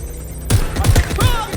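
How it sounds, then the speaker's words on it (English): A rapid burst of gunfire in the game Watch Dogs Legion erupts abruptly and continues as several close, punchy shots with echoing tails; a shouted voice may sit in the mix. "Shots fired! Shots fired! I'm taking fire!"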